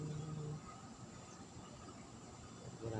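The Serayu train at Bojong Ciamis station in Indonesia, a steady broadband rumble close by, with a brief tonal hum at the start and end of the pass.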